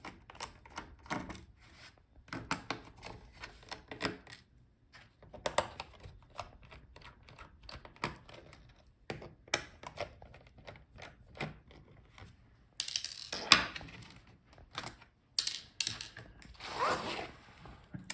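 Screwdriver work on the bottom case screws of an HP 15 laptop gives close, quiet, irregular clicks and ratcheting twists in short bursts, with a louder clattering stretch near the end.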